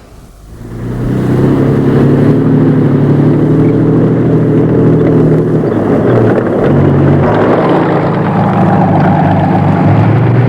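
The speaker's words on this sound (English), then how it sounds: "The Spider, riot control vehicle. Virtually indestructible against guerrilla attacks." A heavy armoured riot control vehicle called the Spider rumbles with a steady low engine drone that swells in after a second and holds loud and close throughout, with no talking.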